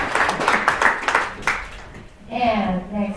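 Scattered clapping from an audience at a hackathon presentation livestream for about a second and a half, then a voice starts speaking over a quieter room.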